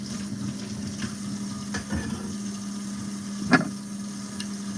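Celery, onions and garlic frying in a pan give a steady, close sizzle that holds evenly throughout, broken by a couple of faint clicks and one brief sharper tick.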